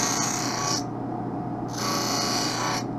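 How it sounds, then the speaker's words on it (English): Eyeglass lens, an Oakley 8121 frame lens, edged by hand on a bevel stone wheel, giving a steady whirring grind with two sustained bright passes separated by a quieter spell of the wheel running. "I'm going to go to my handstone, which is just like the cutting wheel. There's that little bevel wheel there."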